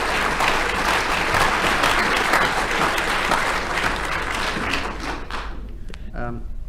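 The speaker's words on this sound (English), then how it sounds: "the amount that you gave in the way of applause to Denis and to Frank" A studio audience at a radio panel show gives loud, dense applause that holds steady for several seconds before tapering off, followed by a voice beginning to speak.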